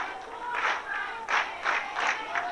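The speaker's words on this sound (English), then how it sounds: "This crowd has been pumped up all night long" A football crowd at a Marion vs Sedgwick game, chanting and clapping in rhythmic surges heard from a distance, steady and moderately loud.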